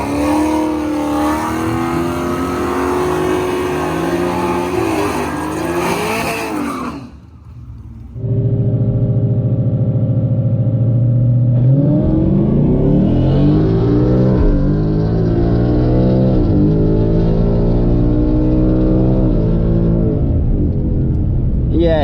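Cammed 2018 Ford Mustang with a Coyote V8 at a drag strip, engine roaring loud and close, dropping to a brief lull then surging back in a hard, rising acceleration run, with talk mixed in early on.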